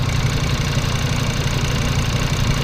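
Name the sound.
car engine idling while warming up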